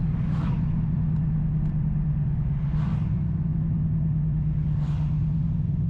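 A modded Dodge Challenger's engine drones with a steady low rumble as it downshifts, and three brief rising swells of revving mark each gear change, all heard from inside the car with no talking.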